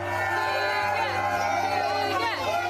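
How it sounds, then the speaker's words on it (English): Children cheer and shout together in a lively crowd, with excited voices rising and falling at steady loudness and a couple of high whoops near the end. "Like these kids cheering on Keegan Harrison before he and his mom biked"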